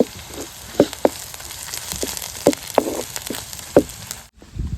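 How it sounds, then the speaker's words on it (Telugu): Ginger garlic paste frying with onions in a pan for a stingray fish curry gives a soft continuous sizzle broken by scattered sharp pops and crackles, close and alone. "ఈ అల్లం వెల్లుల్లి పేస్ట్ వేసుకొని పచ్చి వాసన పోయే వరకు"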